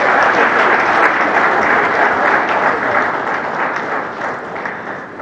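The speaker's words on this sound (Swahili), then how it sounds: "Makofi, makofi." An audience at the opening of the Gran Melia hotel in Arusha breaks into loud, thick, continuous applause, steady throughout with slight easing near the end.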